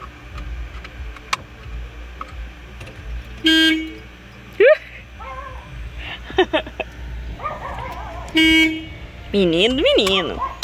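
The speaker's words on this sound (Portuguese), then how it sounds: "Escuta a buzina." A Kombi camper van's horn honks in several short and longer toots inside the vehicle, mixed with clicking, scattered speech and other cabin sounds.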